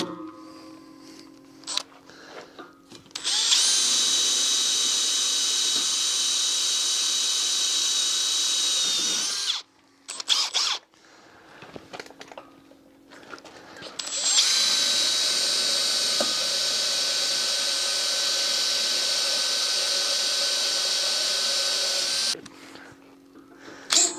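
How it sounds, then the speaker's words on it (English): Two long bursts from a power drill boring pilot holes in a century-old house stairs renovation, each a steady high whine at close range, separated by a short pause with clicks and handling sounds. "On a pilot hole."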